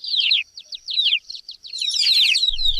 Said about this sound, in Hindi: वो सीधी नीली पहाड़ी की तरफ उड़ी और नीलम सरदार के सामने जाकर चहचहाई